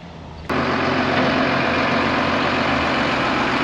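A Massey Ferguson-style MX285 tractor engine runs under load awaiting a new belt, kicking in abruptly and then holding a loud, steady low diesel drone close by.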